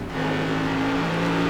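A race car engine lets go in the iRacing game during a Tour Modified race at North Wilkesboro, a loud steady engine roar with a strained tonal drone that holds steady throughout.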